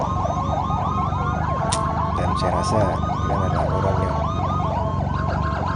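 An ambulance siren wails steadily nearby in rapid warbling cycles on a city road at night, heard over engine and traffic noise while someone talks.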